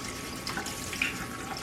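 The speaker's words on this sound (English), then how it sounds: "you just want to rinse your cup of rice thoroughly" Tap water runs steadily over a cup of rice being rinsed for sushi, a continuous close splashing with small drips and clinks scattered through it.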